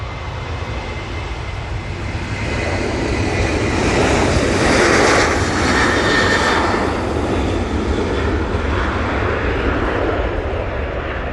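A plane at Manchester Airport, a steady broadband jet roar that swells toward the middle and holds, fairly loud and continuous with no talk over it.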